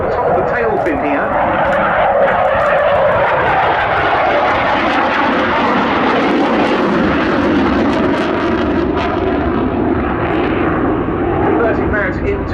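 Aircraft flying display manoeuvres at the Duxford Summer Airshow 2025, a loud, sustained engine roar that swells and fades slightly as the plane passes, with a voice faintly audible over it.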